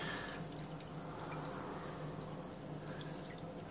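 Water pours and trickles through a filter to strip out twigs and sand before making salt, a soft, steady splashing with faint drips, quiet and continuous throughout.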